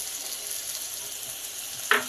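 Spices and tomato ketchup fry in a pan for a Bengali rui fish curry, a steady soft sizzle throughout that ends in a brief louder clink or stir.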